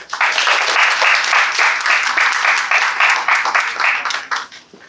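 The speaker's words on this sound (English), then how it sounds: "Let's give a huge round of applause for Ms." An audience bursts into loud, sustained applause for a speaker at a talk, full and steady clapping that builds quickly, holds for several seconds, then tapers off.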